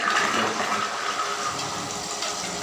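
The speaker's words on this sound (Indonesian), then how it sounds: "kita hidupkan pompa, di mana pompa itu akan memberikan aliran pada alat destilasi." A pump drives water flow to a crude-oil distillation apparatus in a chemistry lab, a steady gushing rush of water with a low hum underneath, slightly louder at the start.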